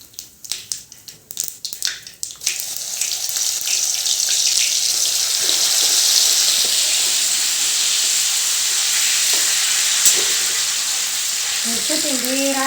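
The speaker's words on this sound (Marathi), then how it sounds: "लसूण ठेचून घेतला आहे, तो तेलामध्ये टाकून घ्यायचा." Crushed garlic lands in hot oil already crackling with cumin and mustard seeds, setting off a sharp burst of sizzling. A few clattering knocks come first, and then a loud, steady, hissing fry continues close by.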